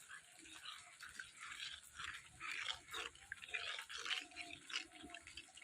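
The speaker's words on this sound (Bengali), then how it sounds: "আর হলুদ দিয়ে এটাতে আমি জল দিয়ে সুন্দর করে গোলাই নেব।" Water added to salt and turmeric in a small bowl and stirred to a paste, soft close trickling and wet swishing, quiet and uneven with no talk.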